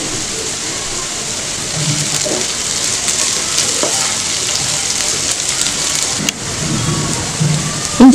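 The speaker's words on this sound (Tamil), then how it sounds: "வெங்காயம் நல்லா வதங்கட்டும். கொஞ்சம் கருவேப்பிலை போட்டுக்கலாம்." Onions and curry leaves sautéing in a pan for mutton sukka, producing a steady, fairly loud sizzle with a few faint clinks and no clear talk.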